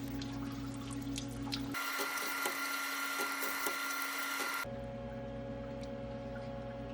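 A metal lathe chambering a 375 Raptor rifle barrel, a steady machine whine and hum with a brighter cutting hiss in the middle stretch, close and continuous, no voices.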